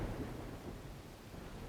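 A thunderstorm in the video game Dawn of Man, a steady, dense roar of rain and rumbling thunder that fills the scene evenly from start to finish with no voices.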